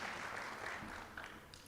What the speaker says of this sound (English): Please give a big warm round of applause towards our panelists and moderator today.